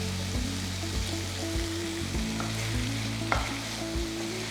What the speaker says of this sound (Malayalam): പൊട്ടേറ്റോ ചേർത്ത് നന്നായിട്ടൊന്ന് വഴറ്റി.